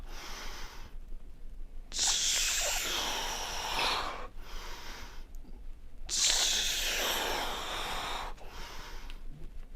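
Two long, forceful breaths during an archer stretch, each a breathy rush lasting about two seconds, with quieter breathing between them, close to the microphone.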